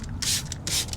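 Two sharp hissing bursts from a trigger sprayer misting wheel and tire cleaner onto a tire, close and loud with no talking.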